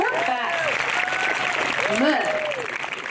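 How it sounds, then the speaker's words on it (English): An audience at an outdoor choir concert on the grass claps steadily throughout while a person speaks over the applause. "You should absolutely clap."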